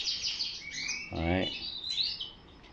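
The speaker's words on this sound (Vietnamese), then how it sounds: "Đây là cặp chim giống này." A pair of breeding canaries in a cage chirp with quick high tweets and rising trills, a man's short spoken word briefly cutting in near the middle.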